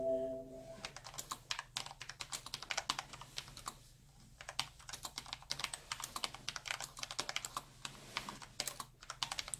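Typing on a computer keyboard suited to coding, a dense run of quick, close key clicks in irregular bursts with a brief pause midway, no talking.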